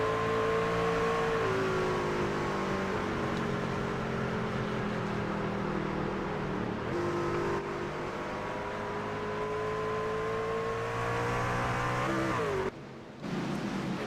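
An ACAR Frey Truckin' Series race truck at Milwaukee Mile in iRacing drones loudly and steadily at high revs, its pitch dipping with each gear shift, holding close and continuous until a brief lift near the end.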